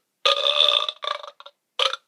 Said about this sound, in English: it's just a fake burping farting video